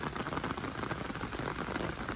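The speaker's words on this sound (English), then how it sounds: "Very big rain." Heavy rain pours down in a dense, continuous hiss and patter with no break, close and loud, no voices.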